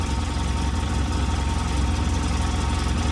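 A Polaris RZR 800 engine that sat unused for years idles in a steady, close, loud low rumble with an even, slightly rough pulse throughout.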